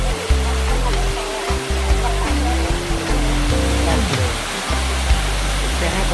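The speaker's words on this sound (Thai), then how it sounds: "นี่ครับเป็นบรรยากาศน้ำตก" Waterfall at Ko Luang in Mae Ping National Park, a steady broadband rush of falling water filling the whole clip, with people talking over it close by.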